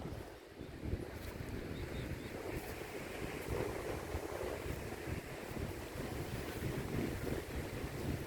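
Ocean surf rumbles far off across a wide beach at low tide, mostly buried under heavy, constant wind buffeting the microphone, with no talking.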